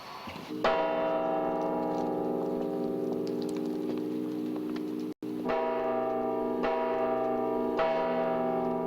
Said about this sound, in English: has been ringing the bells here for more than 20 years